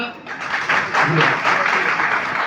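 Audience applause at the start of a poem recitation in a poetry competition: a loud, dense wash of clapping that swells and holds steady across the whole stretch, with voices mixed in.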